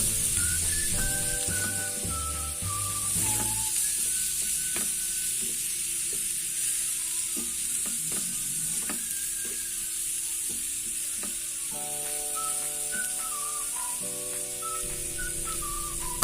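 Nasi gila fried rice with sweet soy sauce sizzling in a pan while being stirred, a constant frying hiss with repeated scraping clicks of the utensil, and soft background music playing underneath.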